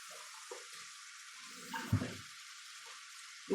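Greens sizzle in a pan after a splash of water, a steady broadband frying hiss throughout with a few low stirring knocks and a louder clatter near the middle and at the end.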